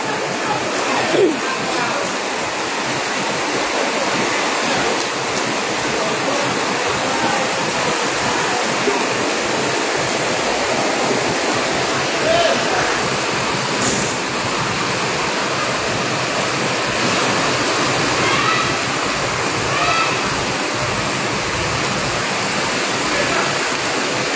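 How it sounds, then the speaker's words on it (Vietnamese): Heavy rain and rushing water, heard as a continuous, loud, even roar of downpour and flowing water that stays steady throughout, with occasional faint sounds in the background. "Trường Phong mưa to lắm bạn ơi."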